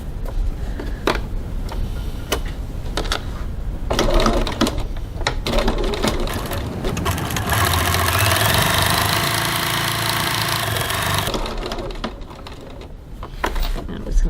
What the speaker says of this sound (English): we're just going to baste those two sides together